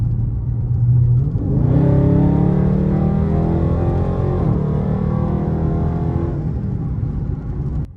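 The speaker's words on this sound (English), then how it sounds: "it just sounds so great with that muffler delete" A Dodge Charger Scat Pack with a muffler delete rumbles loudly and close, its engine rising through a long rev with a deep, raw exhaust tone and no talk.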